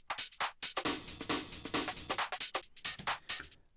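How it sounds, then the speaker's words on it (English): Electronic drum break fill in a dance track production, a rapid run of punchy, tightly spaced hits played alone at moderate level. "there's this break fill that happens at the end of every 8 bars."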